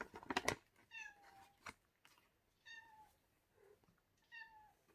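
A pet cat indoors among rustling plastic bags meows three times in short, clear, close calls, spaced about a second apart, with no talking.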